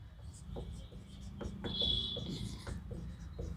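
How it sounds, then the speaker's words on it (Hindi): Chalk or marker scratching across a classroom board while a chemistry formula is written, with short strokes and taps in an irregular rhythm, fairly close and moderately loud. "जरा हम इधर लिख दे रहे हैं"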